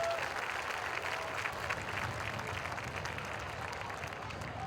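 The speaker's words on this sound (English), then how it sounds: "Let's give a warm round of applause for Investigative Sergeant Justin Hussle." Crowd applause at a high school football game ceremony honoring inductees, a continuous bed of clapping from a large outdoor audience heard from some distance, steady and moderately loud throughout.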